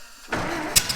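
A 1924 Model T Ford, long unused, tries to start: after a quiet moment a starter-like cranking churn builds, broken by two short sharp knocks or clanks near the end, close and fairly loud with no speech.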